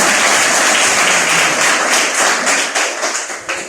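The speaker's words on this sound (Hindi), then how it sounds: "जोरदार ताली।" Loud, dense applause from a crowd at a DXN gathering, steady and full at first, then thinning into separate claps and taps toward the end.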